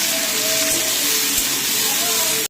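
Onion and green chilli paste hits a hot pan for potato poppy-seed curry, giving a loud, dense, steady sizzle and hiss that carries unbroken before cutting off abruptly at the end.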